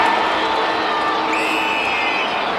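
Broad crowd noise fills a stadium as an Australian football match between Carlton and North Melbourne gets underway, a steady loud roar with a faint whistle-like tone partway through.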